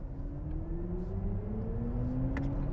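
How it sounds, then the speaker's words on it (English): BMW iX electric SUV with a synthetic, Formula E-style single-seater drive sound: a steady, rising electric whine over road rumble, continuous and fairly loud from inside the cabin. "So I think they've tuned in a bit of that racy single-seater electric car sound to it."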